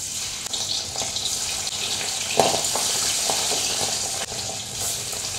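Fish frying in hot oil, a steady and fairly loud close sizzling hiss with a few brief crackles throughout and no voices.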